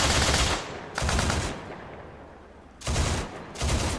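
A vehicle-mounted 12.7mm M2 heavy machine gun fires loud, close bursts in a video game, two sustained volleys separated by a pause, then two shorter bursts near the end.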